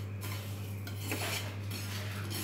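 A utensil scrapes and clinks against a pan while stirring kalonji seeds frying in it, a few quiet scraping strokes over a low steady hum.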